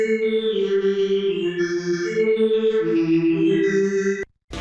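An FL Studio synth plays without its modulation, a steady, bright chord progression with sustained layered tones, loud and alone, stopping abruptly just before the end.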